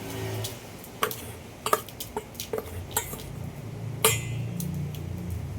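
A spoon stirs crushed dog medicine in a small container, giving a series of light clinks and taps scattered at an uneven rhythm, close and fairly quiet over a low background hum.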